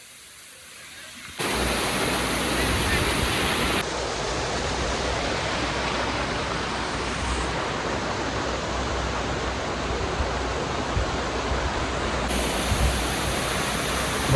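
Water rushes at a waterfall in Palghar as a loud, steady broadband roar that swells in abruptly after a quieter opening and holds throughout.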